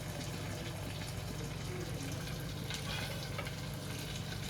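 Chicken legs frying in a pan for a home chicken curry meal: a steady, close, dense sizzle with bubbling crackle that holds evenly throughout, with no talk.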